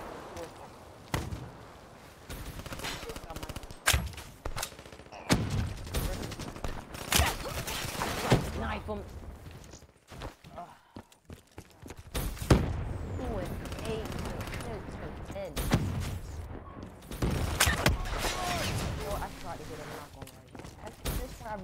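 Repeated gunfire from an MX Garand rifle in Black Ops 3, sharp cracks scattered through a busy firefight with other shots and game noise, while a person talks over much of it.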